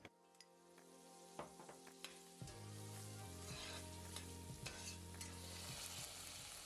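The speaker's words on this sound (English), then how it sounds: "We don't want the onion to be brown, just fry it for about a minute." A chopped onion fries in oil in a pan, starting with faint pops and light stirring, then settling into a steady, louder sizzle with occasional clicks of stirring.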